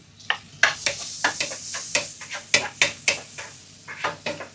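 Chopped garlic going into melted butter in a pan, heard as a soft, steady sizzle under a string of sharp clinks and scrapes as a utensil stirs against the pan, with no talking.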